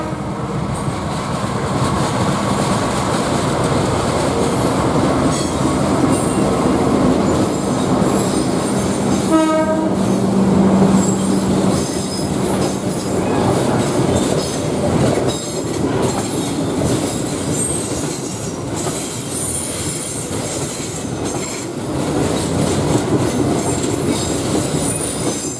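A KRL electric commuter train runs past on rails, giving a long, loud, continuous rolling roar with clattering wheels, metallic squeals and a brief horn blast partway through.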